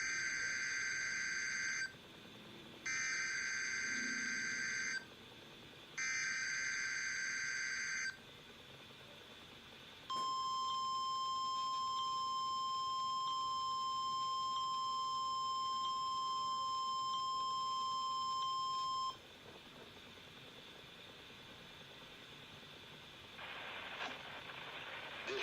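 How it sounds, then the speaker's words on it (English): A NOAA Weather Radio public warning system test from the National Weather Service office in Honolulu, Hawaii: three loud, steady, high-pitched data bursts, a pause, then a long continuous two-tone alert lasting about nine seconds, ending in quiet static. "The preceding signal was a test of the NOAA Weather Radio's public warning system."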